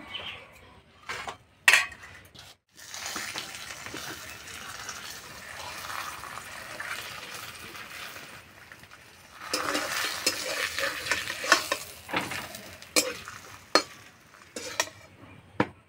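Parathas made with powdered milk fry in a little oil in a pan, with a soft steady sizzle broken by scraping, turning and sharp utensil knocks against the cookware.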